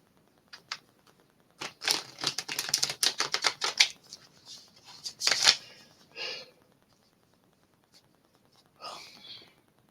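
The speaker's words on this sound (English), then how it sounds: "shuffle these chords" Quick papery riffles of a deck of cards being shuffled in several short bursts, with pauses and soft handling noises between them.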